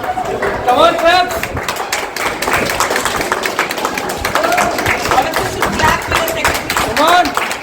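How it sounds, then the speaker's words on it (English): Audience clapping at a shooting championship prize event in Vizag, scattered and uneven claps mixed with lively crowd chatter, while voices talk and call out over it close by. "Come on, clap."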